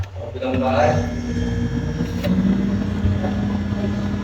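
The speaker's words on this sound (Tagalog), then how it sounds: "Maririnig nyo na bumubuga na rin ang pan" A no-frost refrigerator fan gives a steady mechanical whirring with a low hum, blowing continuously, close by.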